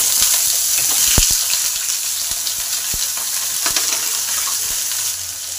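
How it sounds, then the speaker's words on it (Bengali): Washed potato pieces sizzle steadily in hot oil in a pan for a Bengali egg curry, a close, continuous frying hiss with a few sharp pops and spatters. "তেল গরম হলে এবার আলুগুলো টুকরো করে ভালো করে ধুয়ে নিয়েছি, আলুগুলোকে দিয়ে দিলাম। এগুলো একটু ভেজে নেব।"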